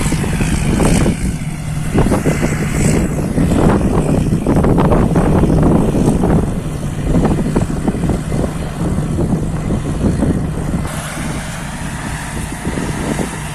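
A combine harvester drives through a rice field while harvesting, its steady engine and threshing roar loud and continuous, with wind buffeting the microphone and no talk.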